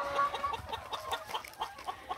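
Pasture hens feeding in January cluck softly and repeatedly, a faint, quiet patter of short calls close by with no talk.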